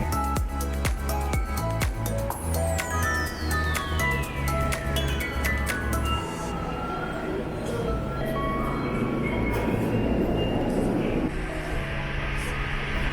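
A train in Japan rides on its rails with a steady, loud rumble and a rhythmic clatter. A long falling tone sweeps down partway through, and the noise swells toward the end.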